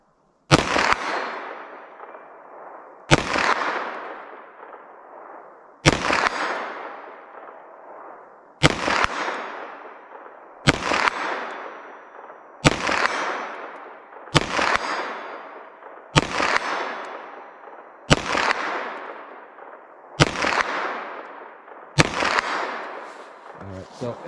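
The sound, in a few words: 9mm Corbon Glaser Safety Slug blue rounds gunshots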